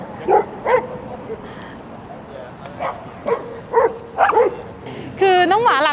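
Dogs at Silverlake Dog Park in Los Angeles bark in short separate yips and woofs, close and fairly loud, ending in a drawn-out whining howl, with someone talking over the outdoor background.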